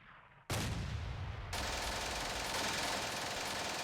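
Tank cannon firing in the WWII strategy game Steel Panthers, a sudden loud blast followed by a sustained roaring burst of gunfire and rumbling noise with no talk.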